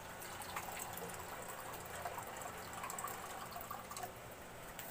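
Tap water running into a pot, a steady faint splashing fill with soft drips continuing throughout, heard alone at low level.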